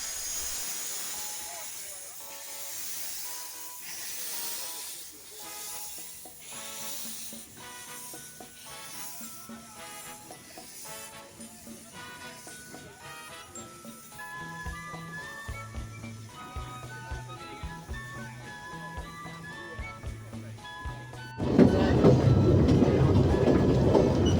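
A steam train chugs steadily up a valley with rhythmic puffing and clattering wheels, growing louder over time, then a loud burst of hissing steam at the end.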